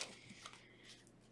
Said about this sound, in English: let's give this a good shuffle real quick